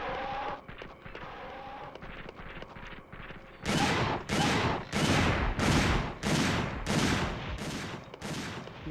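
Shots ring out as a dinosaur is fired on in Dino Crisis 2: softer scattered bursts at first, then a regular volley of about eight loud, sharp reports spaced evenly and close.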